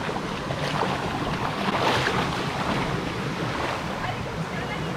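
A small waterfall at Rishikesh gives off a steady, broad rushing hiss of falling water, constant and fairly faint, with a little wind noise and no clear talking.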